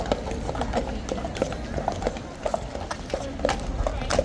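Horse hooves clip-clopping at a steady walking pace on a hard surface, a string of crisp irregular knocks under crowd murmur and some talk.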